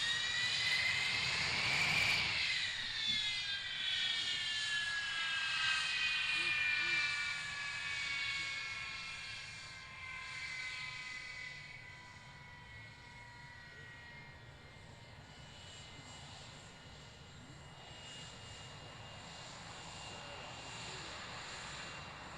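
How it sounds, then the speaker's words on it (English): An Avro Vulcan's jet engines roar at Waddington in 2013, a loud, sustained whine with sweeping descending tones as the bomber passes, then a broad rumble that slowly fades into the distance. "There really is nothing like that aircraft."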